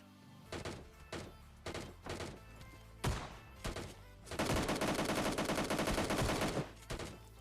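Gunfire in the mobile battle-royale game PUBG Mobile Lite: a few single shots and short bursts, then a long sustained automatic volley, loud and close, with no talking over it.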